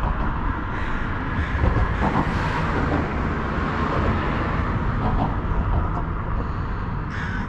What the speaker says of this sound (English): See those trucks running through.